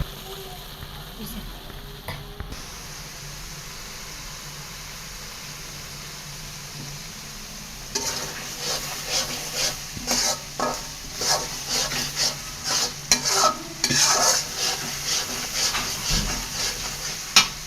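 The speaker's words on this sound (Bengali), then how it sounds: "তো এইভাবে আপনারা ভালো মতন করে মশলাটা কষায় নেবেন।" Spice masala for taro leaf ghonto is stir-fried in a pan; after a quieter stretch, a steady sizzle starts and rhythmic scraping stirs repeat close by.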